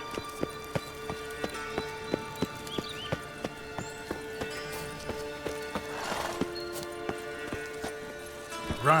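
Hooves of Roach, the horse in The Witcher 3, running at a steady gallop: crisp, evenly spaced clip-clop beats close by, over a faint tonal background, with a louder thump at the end and no voices.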